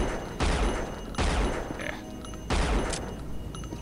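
Pistol fire in the video game Unreal: three sharp, loud gunshot bursts spaced about a second apart, each with a short ringing tail, over quiet game ambience.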